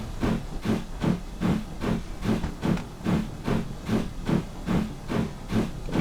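An L&YR Class 5 steam locomotive chuffs and hisses in a steady, rhythmic series of breathy exhaust beats, close and moderately loud, with no voices.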